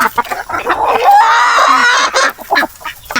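Chickens clucking on a small farm raising hens, loud and close, a drawn-out squawk in the middle framed by shorter clucks and calls.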